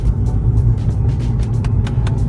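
A 2016 Kia Rio hatchback accelerating, its engine a steady loud rumble heard from inside the car, with road noise and light ticking over the drone.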